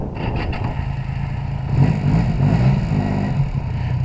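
A classic Yamaha XS750SE three-cylinder motorcycle on a warm day, started without choke, runs close by, a steady mid-pitched drone that swells slightly in revs in the middle before settling back.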